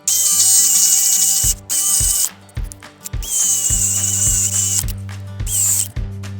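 A power drill fitted with a 3/4-inch Forstner bit bores holes in a wooden tray, loud whining bursts that repeatedly stop and restart, with a low motor hum and clicking between runs.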